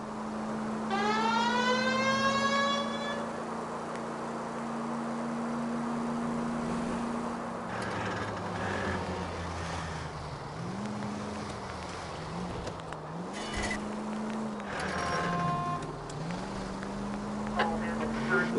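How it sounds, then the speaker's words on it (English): A car siren wails while driving in the video game LA Noire, rising and wavering in repeated sweeps over a steady engine drone, with voices talking in between. "The siren might keep people out of your way"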